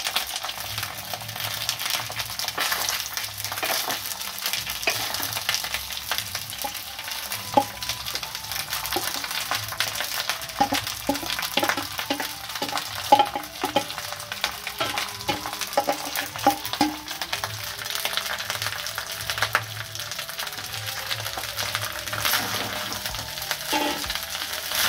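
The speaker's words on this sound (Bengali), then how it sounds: "ভালো করে একটু নাড়াচাড়া করে নিই" Rice for veg fried rice sizzles steadily in a hot pan while being stirred, with scattered scraping and clinking of the spoon against the pan throughout, close and moderately loud, no voices.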